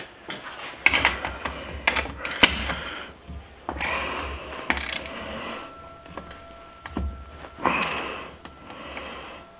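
A hand ratchet cranking during a TruXedo ProX 15 tonneau cover install on a 2021 Jeep Gladiator Rubicon, with bursts of close clicking pawl strokes and metallic clanks separated by short pauses.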